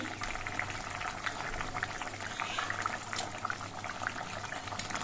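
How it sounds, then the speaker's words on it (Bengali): A pot of khoira fish curry with potatoes bubbles at a steady, quiet simmer, a continuous soft burbling with small pops. "ঝোলটা কিছুক্ষণ ফুটিয়ে নেওয়ার পর এবার দেখে নিচ্ছি আলুগুলো সেদ্ধ হয়েছে কিনা"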